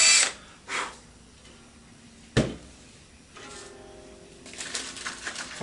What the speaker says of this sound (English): So then I drill a hole, making sure not to go too deep.